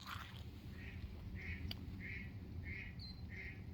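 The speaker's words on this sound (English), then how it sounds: "Little ducks." Five evenly spaced duck quacks sound at a distance over a low, steady rumble, with no one talking.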